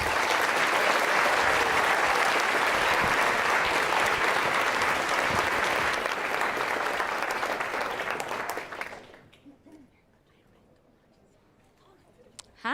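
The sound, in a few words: audience applause for speaker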